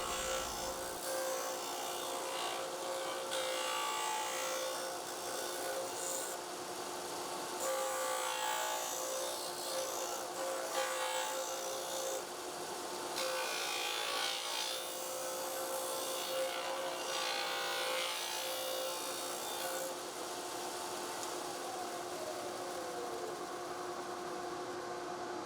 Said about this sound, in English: I'm just taking my base piece over to my sander, and I'm just going to just round over the 4 corners